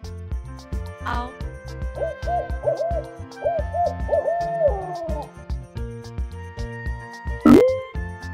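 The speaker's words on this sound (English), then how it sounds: "Owl." Owl hooting in a children's animal sound learning piece, a few clear low hoots repeating over a steady light rhythmic music backing.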